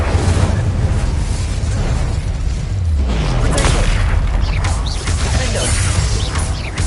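A fire spell blast in Hogwarts Legacy: a loud, sustained roaring burst of flame that fills the whole stretch with dense rumbling crackle, with a brief dip midway before surging again.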